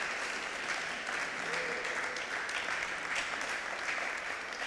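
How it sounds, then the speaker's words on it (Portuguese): A church congregation claps steadily at a Thursday evening service, a dense, even wash of applause held at a moderate distance throughout, with faint voices underneath. "E uma salva de palmas para Jesus."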